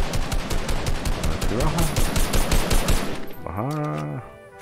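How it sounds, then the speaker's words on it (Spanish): Rapid automatic gunfire rattles in a video game during a supply-delivery challenge, close and loud bursts repeating for about three seconds before someone speaks briefly. "mira, ya están disparando por ahí"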